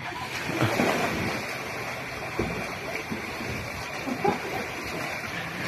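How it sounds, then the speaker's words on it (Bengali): Swimmers thrash through the water in a competitive race at a swimming event, a steady broad wash of splashing and surf-like noise with a few louder surges, people faintly audible beneath. "তুমুল গতিতে সাঁতারুরা এগিয়ে চলে আসছে।"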